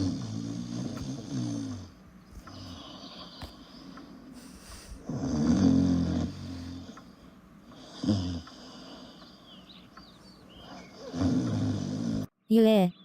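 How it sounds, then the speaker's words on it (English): A man snoring in a cartoon scene, with rough, drawn-out rasping breaths repeating across the clip, rising in loud bursts, mixed with other voice-like sounds. "how come I hear a man snoring?"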